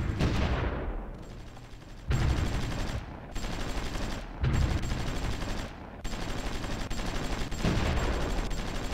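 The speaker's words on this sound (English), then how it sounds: "We're bombarding the garrisons over there." Artillery in the strategy game Supreme Ruler Ultimate shells enemy garrisons in the Ruhr area, heard as repeated rumbling bursts of gunfire and blasts. The bursts come in several waves separated by brief gaps and are moderately loud, with no voices.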